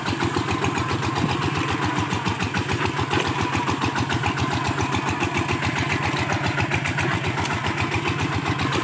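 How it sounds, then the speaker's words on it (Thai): A tractor plowing around large trees in a eucalyptus plantation runs with a steady, rapidly pulsing diesel chug, close and constant throughout. "ไถรอบต้นไม้ครับไถรอบต้นไม้ใหญ่"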